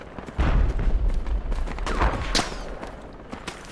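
MG3 machine gun fire in the tactical shooter Project Reality, a heavy close burst of rapid booming shots followed by fading reverberation and a few distant cracks.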